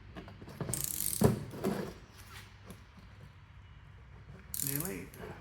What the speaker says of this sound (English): You'll hear it click if I can get it to click over.